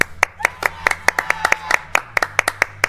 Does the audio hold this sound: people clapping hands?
yes